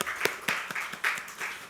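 A church congregation gives a short round of applause during a Sunday afternoon praise service in a Korean church, with scattered, sparse claps rising in a few separate bursts at moderate distance, fairly faint overall.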